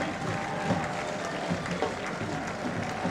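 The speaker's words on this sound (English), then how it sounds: "Who else gets an applause like that?" A crowd at a Chattanooga Football Club versus Michigan Stars FC match applauds a player being substituted, with steady, sustained clapping and crowd noise under a commentator's voice.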